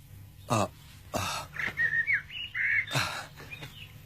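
A bird sings in short whistled, chirping phrases, close and fairly clear, broken up by several sharp, noisy bursts of other sound.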